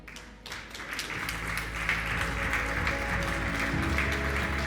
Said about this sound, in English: A big round of applause to all the speakers the last 2 days.